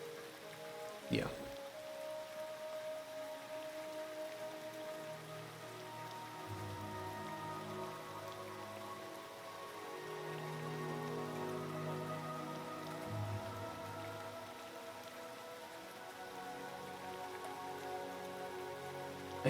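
Steady rainfall in the game Cauldron Chronicles patters on surfaces throughout, with a sharp click near the start and low tonal hums drifting underneath, as if from a game soundtrack.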